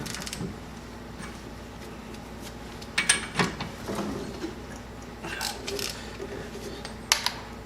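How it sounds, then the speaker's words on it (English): Ratcheting and metallic clicks from a 32 mm socket tightening the lower ball joint on a Jeep TJ, in short bursts around a few seconds in and near the end over steady low shop hum, close by with no talk. "So we'll start by tightening up the bottom one."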